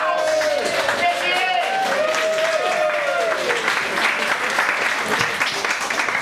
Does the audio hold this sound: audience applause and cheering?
yes